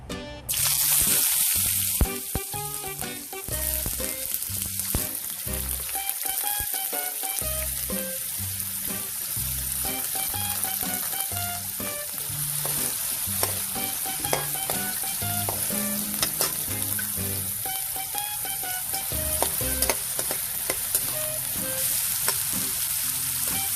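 Carrots go into ground pork frying in a pan, giving a loud, continuous sizzle with stirring scrapes throughout, close up and without speech.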